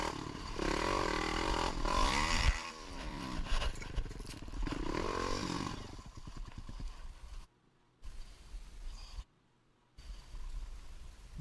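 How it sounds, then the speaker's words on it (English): An ATV engine roars loudly and continuously on a trail ride with a man aboard, rising and falling in revs with scraping and clattering, then cutting out abruptly in two short gaps near the end. "Of himself riding his ATV on an unnamed trail."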